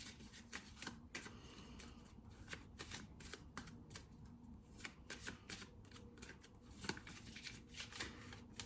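Tarot cards being handled and shuffled up close, a run of quick riffling flicks and soft slaps in bursts, quiet and with no talking.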